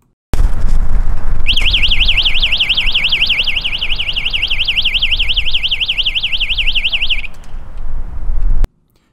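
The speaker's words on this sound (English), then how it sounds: "I will remove the VBI15 to demonstrate the alarm with loss of potential." A VBI15 voltage break indicator on an energized overhead power line sounds its loss-of-potential alarm: a loud, rapidly warbling electronic tone repeating steadily for about six seconds over a constant background rumble.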